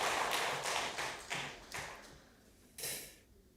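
Sparse, quiet claps from a church congregation at a Wednesday worship service, a handful of distinct slaps spaced apart that fade toward the end.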